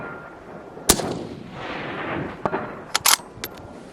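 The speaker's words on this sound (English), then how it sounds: "see if we can get a couple quick shots off here" Rifle shots outdoors: one sharp report early on, then a cluster of quick cracks near the end, each with a brief echo over a rumbling, windy background.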